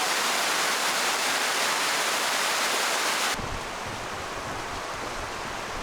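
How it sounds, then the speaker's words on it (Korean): Steady, full roar of a waterfall in a yellow-ochre valley at Huanglong, China, loud and continuous with no voices; the tone shifts slightly darker partway through. "와, 여긴 또 이렇게 폭포가 있습니다."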